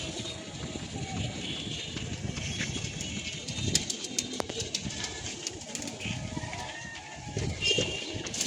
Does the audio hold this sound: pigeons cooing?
yes